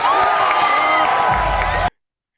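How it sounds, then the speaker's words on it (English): A wrestling arena crowd roars and cheers loudly after a finisher, a dense sustained wall of voices that cuts off abruptly before the end. "The crowd went nuts."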